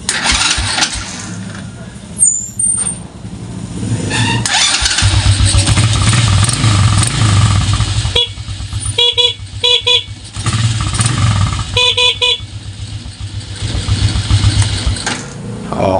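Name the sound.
motorcycle engine starting and horn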